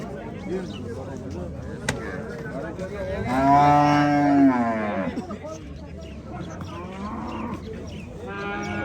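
A cow moos once in a long, loud call near the middle, amid steady crowd chatter and bustle at the Angren cattle market.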